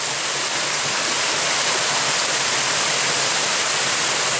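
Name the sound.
waterfall rushing at Callahan Run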